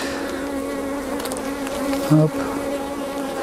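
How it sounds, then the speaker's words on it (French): Honeybees drone in a continuous, fairly loud buzz around an open hive frame during queen-rearing grafting work, with a short hum of an insect passing close by near the middle and one brief spoken word. "je vais rebalayer mes abeilles dedans"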